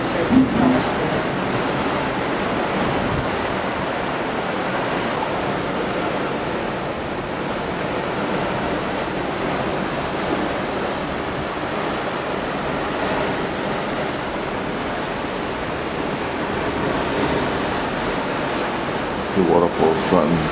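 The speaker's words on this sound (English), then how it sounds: "Two waterfalls starting from the top" Waterfalls tumbling from top to bottom on a cruise stop in Australia or New Zealand: a constant, broad roar of falling water, loud and unbroken, with faint wind buffeting near the microphone.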